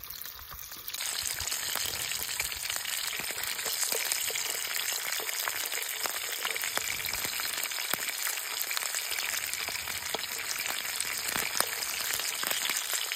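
Dried fish (tuyo) frying in a pan, giving a loud, continuous crackling sizzle that stays dense and even from start to finish, close up, with no talking.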